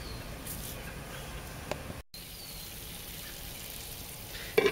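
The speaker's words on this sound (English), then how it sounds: "Everything's sizzling." Steady, close sizzling of pork chops and squash frying in a pan on a brick rocket stove, a continuous crackling hiss with a brief dropout and a small clatter at the end.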